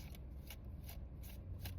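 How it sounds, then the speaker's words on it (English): Tarot cards pulled and shuffled by hand, with soft repeated riffling swishes about every 0.4 seconds over a steady low room hum, close and fairly quiet, no voices. "I'm just gonna pull a bunch of cards and do it that way today."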